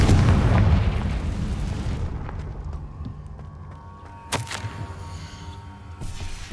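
A Confringo fire spell detonates in Hogwarts Legacy, a loud, deep explosive boom that rumbles and slowly fades, followed by quieter game ambience with a few sharp cracks and pops.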